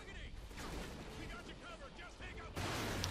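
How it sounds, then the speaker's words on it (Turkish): An enemy rocket launch in Call of Duty: Ghosts, a dense rumbling blast filling most of the clip, then a sharp louder burst near the end. "Roket fırlattı."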